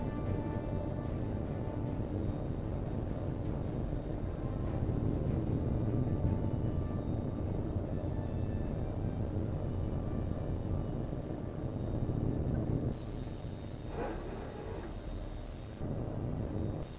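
A jet fighter taking off in Tom Clancy's HAWX 2, a steady loud engine roar that rumbles and rushes continuously, with a brighter hiss rising briefly near the end.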